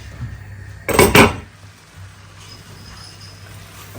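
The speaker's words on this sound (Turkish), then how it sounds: "Ve tenceremizin kapağını kapatıyoruz." Two quick metallic clanks as a cooking pot's lid is set down and settles, in an otherwise quiet room with faint background hum.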